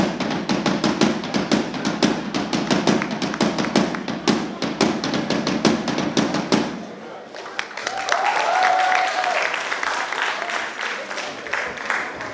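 Audience applause at a Romanian folk festival of customs and traditions in Poduri, Bacău county: dense, close clapping for about seven seconds, then fading into scattered claps and crowd murmur.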